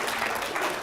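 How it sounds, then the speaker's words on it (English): An audience applauds at a talk, a dense, steady wash of many hands clapping together for a short burst. "it's okay to clap"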